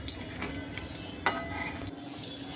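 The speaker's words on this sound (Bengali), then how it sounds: "এবারে দেখো পেঁয়াজি ভেজে নিচ্ছি।" Onion pakoras (piyaji) seasoned with Maggi masala deep-fry until crisp, giving a steady close sizzle with one sharp clink of a metal utensil midway and no talking.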